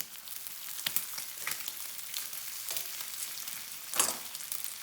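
Bacon fries in a pan with a soft, even sizzle, and a utensil turning the strips adds brief scrapes and clicks, with a sharper clatter near the end.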